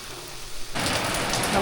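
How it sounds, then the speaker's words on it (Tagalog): Heavy rain in the countryside of the Philippines, a dense steady hiss of downpour that swells abruptly louder partway through and continues close and strong, with no talking. "lakas ng ulan"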